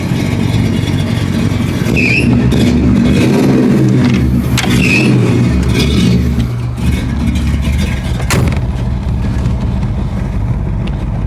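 A 1955 Oldsmobile engine revs and roars continuously while driving, loud and close throughout, its pitch rising and falling with the throttle.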